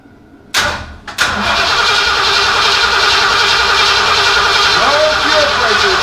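A 1964 Ford F100 engine cranks briefly with a few sharp bursts, then catches and settles into a steady, loud close idle, with people talking nearby.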